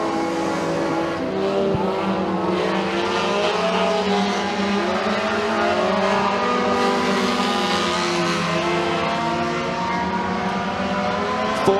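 Dirt track race cars roar around McKean County Raceway during a heat race, a loud continuous engine drone with shifting pitches as several cars pass, steady throughout with no talk.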